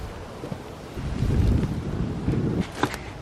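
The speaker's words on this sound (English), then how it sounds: "It's actually super windy outside" Strong wind buffets an outdoor allotment pumpkin patch, gusting rumble that rises and falls across the microphone, loud and close, with faint rustling on top and no speech.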